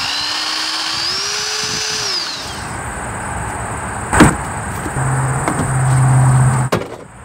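A power drill whines at high pitch drilling into a rusty truck body, then cuts out; a sharp knock and a brief rising whir follow, with a metallic scrape near the end.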